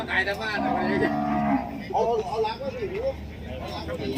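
Cattle and buffalo low and moo at an outdoor livestock market in Roi Et, Thailand, with a loud, close bellow followed by softer calls, while people talk nearby.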